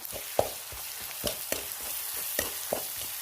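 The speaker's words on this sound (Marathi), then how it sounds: "आता ह्याच्यामध्ये आपण हिरवी मिरची आणि लसूण टाकूया आणि हे पण असं हलवून घेऊया।" Green chili and garlic sautéing in a pan over onions that have turned light red, with a steady soft sizzle broken by a handful of sharp spatula scrapes and clinks as the mixture is stirred.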